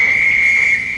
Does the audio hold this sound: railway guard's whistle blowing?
yes